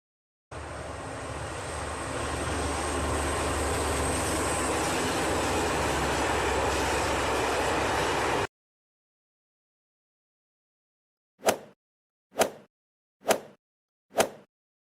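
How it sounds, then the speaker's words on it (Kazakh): A train gives a loud, steady rumble that lasts about eight seconds and then cuts off to silence. Four sharp, evenly spaced clicks follow. "Бұл поезд."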